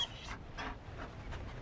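Mabari war dog from Dragon Age: Inquisition Trespasser panting in soft, rhythmic breaths, a few short huffs repeating over a low background rumble.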